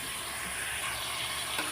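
Goat tripe (boti) frying in a pan for a village-style curry: a dense, continuous sizzle, close and steady throughout, with no voices.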